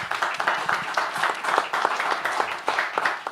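An audience gives sustained applause at a live freedom-of-expression debate challenge, a dense, steady patter of many hands clapping throughout with no voices over it.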